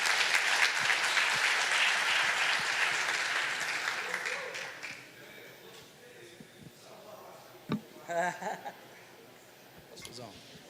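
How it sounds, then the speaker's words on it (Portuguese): Audience applause at a church leadership talk, a loud sustained clapping that fades out over several seconds, followed by scattered voices, a sharp knock and quieter room sounds. "Vamos aplaudir aí dentro, gente."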